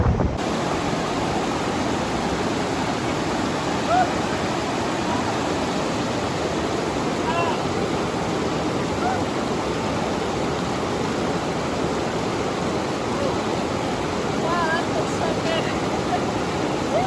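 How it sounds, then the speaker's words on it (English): Steady, broadband rushing of flowing water fills the whole stretch, a constant close wash with no pauses and no voices. "Oh, that river looks good."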